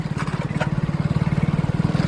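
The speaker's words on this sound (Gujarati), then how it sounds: "આવું ટ્રેક્ટર આવે છે પાછળ" A tractor engine chugs close by on a farm, a steady rapid low thumping pulse that holds even and loud throughout, with no voices.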